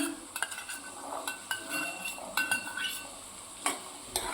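Potatoes and peas being stirred in a pan for Chinese pulao, with repeated scraping and clinking of a spoon against metal over a faint sizzle, close and moderately loud.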